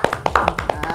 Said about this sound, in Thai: อร่อยต้องปรบมือครับผมปรบมือครับ